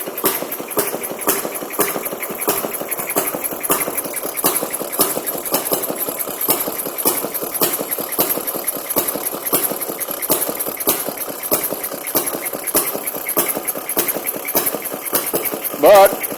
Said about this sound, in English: But it doesn't run too bad for a two-stroke.